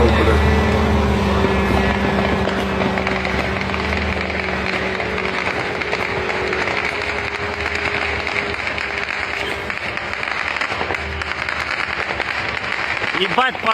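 Shahed kamikaze drone engine droning overhead during a Russian attack on the port of Reni, Ukraine, a steady loud buzz running throughout with bangs and excited shouting voices over it.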